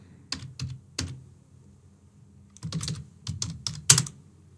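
Test card details typed on a computer keyboard: two short bursts of crisp, close key clicks separated by a pause, the second run quicker and denser, with no talking.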